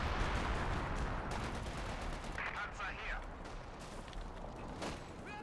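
In a World War II strategy game match, an artillery barrage lands on an MG42 position amid gunfire: a dense, continuous crackle of shots and distant impacts at moderate volume throughout.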